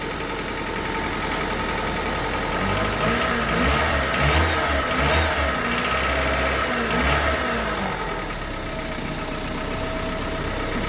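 A car engine idles steadily and loudly up close after a rod bearing replacement, running a little low with a rough, knocking mid-range rumble that swells slightly midway and holds without a break.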